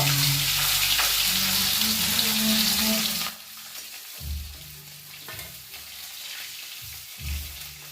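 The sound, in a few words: fish frying in oil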